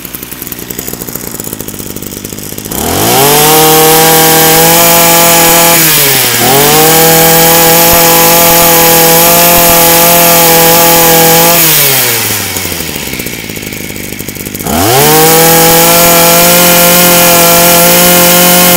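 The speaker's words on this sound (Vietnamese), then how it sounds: "Em sẽ thử giật nổ để các bác nghe thử à" A small two-stroke Komatsu Zenoah brush cutter engine is pull-started and settles into a steady, loud buzzing run, briefly dropping and revving back up twice.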